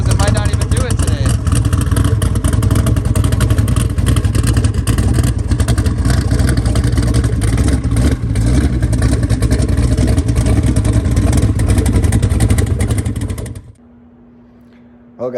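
Twin turbo daily driver car engine revving with an issue, a loud, dense, rough engine roar held steady for about thirteen seconds, then cutting off abruptly to a quiet idle hum, with talk faintly underneath.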